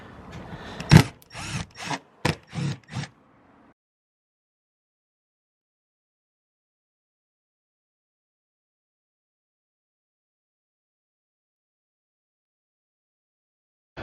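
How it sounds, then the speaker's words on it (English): A power drill backs out screws during a MaxxFan roof vent install: about six short, sharp whirring bursts in quick succession over three seconds, then silence. "Okay, now we can unscrew."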